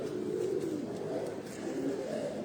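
Pigeon cooing, low and steady, from a bird held in a handler's hands among a pigeon keeper's fancy-breed birds, a continuous soft murmur throughout.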